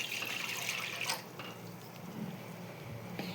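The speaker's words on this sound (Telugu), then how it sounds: "ఈ బౌల్లోకి మనం ఒక 1 గ్లాస్ వాటర్ యాడ్ చేసుకుందాం." A glass of water is poured into a bowl set on a lit stove, heard as a brief, soft splashing rush for about a second, followed by quiet and a faint light clink.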